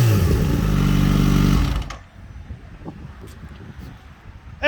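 A 2024 Kawasaki ZH2 motorcycle engine runs loud and close with a steady harmonic drone, then drops away suddenly after about two seconds, leaving quiet rustling background noise.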